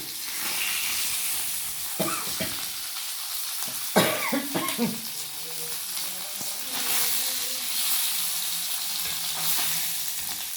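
Mackerel frying in a pan of oil, a steady close sizzle and hiss throughout, with a few clattering stirs and scrapes in the middle.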